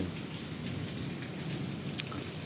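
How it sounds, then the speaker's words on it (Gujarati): Steady, even unseasonal rain in Bhavnagar, Gujarat, during a thunder and lightning storm, hisses throughout with no clear thunderclap, just a constant wash of falling water. "ગાજે છે વીજળી પડે"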